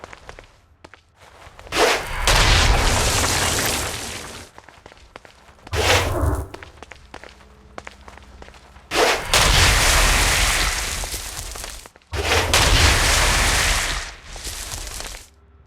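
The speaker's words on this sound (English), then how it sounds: "Stone Blast is especially useful on flying demons like this one." Stone Blast power and gunfire in the video game Saints Row: Gat out of Hell, heard as several loud, broad roaring bursts lasting seconds each, separated by brief gaps with scattered sharp cracks and thuds.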